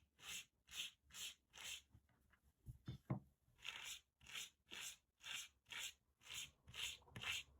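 Macramé fringe on a rainbow keychain is brushed with a metal-bristle pet slicker brush in quick, even strokes, about a dozen soft scratchy rasps at close range, with a brief clatter of handling midway and no talk.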